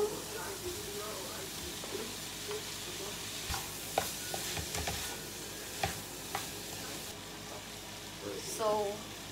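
Tomato fries in a pan for tuna mornay with a soft, steady sizzle and occasional stirring scrapes and taps, while a person talks quietly over the cooking.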